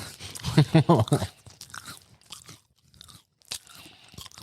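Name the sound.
loud crunchy chewing into the mic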